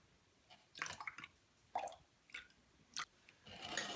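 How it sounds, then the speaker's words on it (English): Borax being stirred into homemade Halloween vampire slime gives close, wet squelching and squishing, arriving in short irregular bursts with quiet gaps between them. "We're going to pour a little bit in and start mixing it up as we go."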